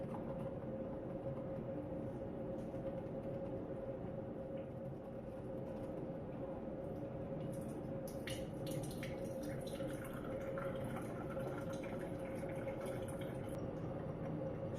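Water runs steadily from a tap with a constant rushing hiss, the pouring sound shifting slightly as it fills a container with about one liter.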